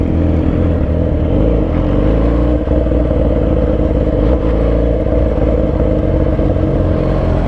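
A Yamaha R6 motorcycle engine drones loud and close at a bike meet as the riders pull away, a steady rumbling roar with a clattery edge throughout.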